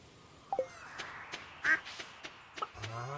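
Several scattered duck quacks from Stardew Valley sound at moderate loudness, a few in quick pairs, over quiet farm ambience, with a soft voice sliding in near the end.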